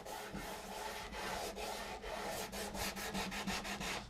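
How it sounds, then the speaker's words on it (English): A radius block sands a guitar fretboard between the fretboard end and the 14th fret during fret levelling, with close, continuous rubbing strokes that speed up into quick, regular back-and-forth passes near the end. "I'm just sanding between the end of the fretboard and the 14th."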